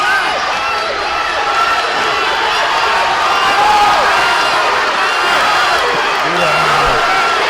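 Spectators at a fight night bout with kicks landing keep up a steady roar of cheering and crowd noise, with commentators talking over it throughout.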